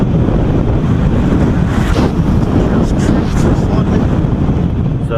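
Strong, gusty wind roars constantly across the microphone during a paraglider flight, a loud, dense rumble with no let-up, while a voice is faintly present underneath.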